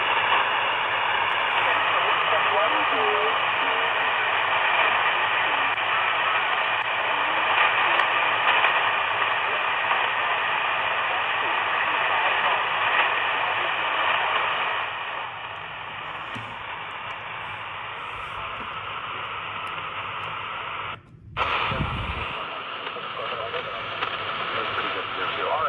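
Sony SW100 shortwave radio with an antenna plugged in, giving a steady band of hiss and static with a faint broadcast underneath, then a brief dropout and click before the noise returns.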